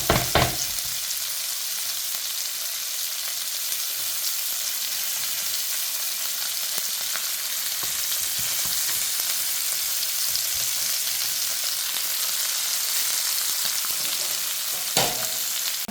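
Lamb chops frying in oil in a pan, a loud, steady sizzle and crackle that runs unbroken and close, with a couple of sharper clatters near the start and end.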